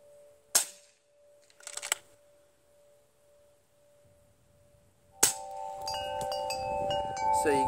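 An Air Venturi Avenger PCP air rifle fires outdoors in wind with a sharp crack, followed by a second clattering burst and then a louder impact with ringing metallic tones at a 35-yard target, with no talking.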